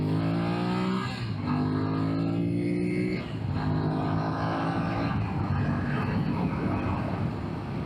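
A BMW F900XR motorcycle accelerates hard, its engine note climbing in pitch through several gear changes, loud and close with a steady rasp underneath and no talking.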